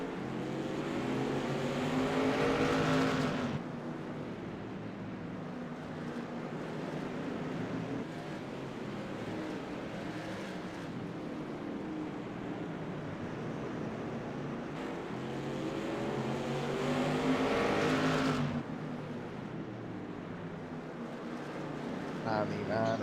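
Modified race cars growl around the Charlotte Legends track in a 150-lap race, their engines a continuous droning roar that swells as packs pass close, with a commentator talking over it throughout.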